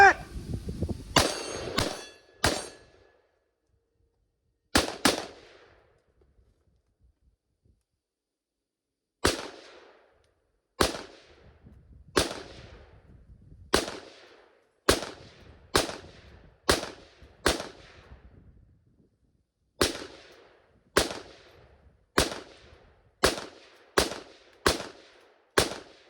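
Sharp, loud gunshots from a CMMG MK3 Resolute rifle, a rapid burst up front, then single and paired shots at a brisk, steady pace with short ringing echoes between them.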